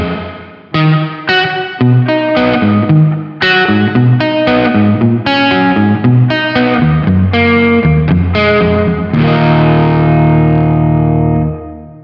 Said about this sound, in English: If we turn it up, we're going to get more reverb blended in.